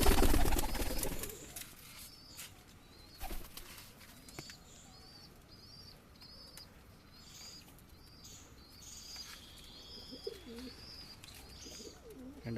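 Pigeons coo repeatedly in a high-flying pigeon loft holding several breeds, including Giribaz and Lotan types, with occasional wing flaps and bird calls around a steady background.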